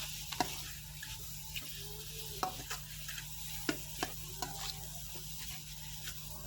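Pork is stir-fried with curry paste for a Thai pork curry with dill. A soft, steady sizzle runs throughout, broken by a scattered rhythm of spatula scrapes and light knocks against the pan.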